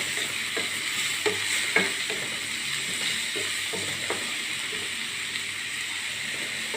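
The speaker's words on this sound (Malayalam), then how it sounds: "നന്നായിട്ട് മിക്സ് ചെയ്ത് ഇളക്കി കൊടുക്കാം." Onions, garlic and chopped curry leaves sizzle steadily in a frying pan, with a few spoon scrapes and taps from stirring, close and moderately quiet, no talking.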